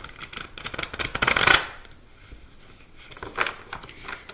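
Tarot cards shuffled by hand for a reading, a quick close riffling patter that builds for about a second and a half, goes quiet, then gives one short softer burst.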